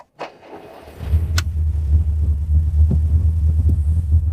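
A Fiat 125p taxi engine idles with a steady low throbbing hum that starts after a brief click and holds close and continuous.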